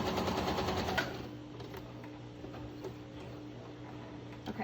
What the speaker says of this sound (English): I folded it in half lengthwise, and I'm sewing a seam on the short side